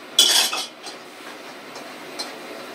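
A spoon scrapes and clinks against a pot while seafood egg soup is stirred, one bright burst of metallic rubbing up front, then quieter faint clinks and a short tap near the end, no voices.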